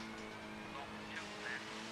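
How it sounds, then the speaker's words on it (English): A rally car's engine from Colin McRae Rally on the PlayStation 1 hums at a steady, faint pitch, running evenly under quiet talk. "Good engine sound, I'll say that."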